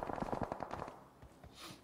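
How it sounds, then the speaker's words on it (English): Distant automatic gunfire in a battle royale shooter game, a faint rapid burst of shots followed by a few scattered pops, with no voices over it. "Lots of gunfire in the distance."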